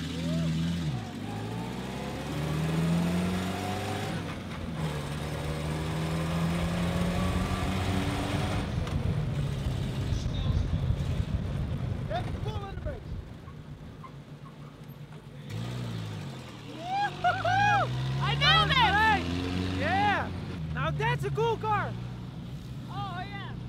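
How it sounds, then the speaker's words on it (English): A deep, rumbling Rolls-Royce Merlin Spitfire aero engine in a Bentley car runs steadily with rising and falling revs at a concours d'elegance, while people talk loudly over it. "This is a Bentley Merlin with a Rolls-Royce Spitfire engine."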